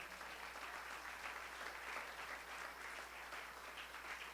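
A church congregation claps in a steady, dense offering of applause to the King during a Spanish-language sermon, the broadband patter sustained and fairly loud throughout with no speech over it.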